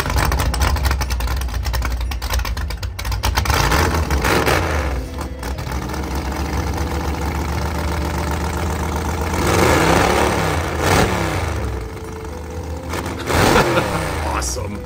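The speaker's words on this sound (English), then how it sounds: "And later on, he revved it up for the crowd." A go-kart engine idles and revs in bursts, rising sharply a few times over a steady rumble, with crowd chatter and voices underneath at a public appearance event.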